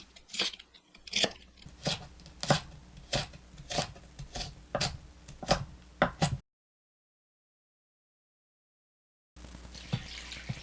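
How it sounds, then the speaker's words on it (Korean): Rapid rhythmic knife chops through crisp cabbage on a board, close and loud, then a sudden break before faint kitchen noise returns. "양배추는 칼로 썰어주세요."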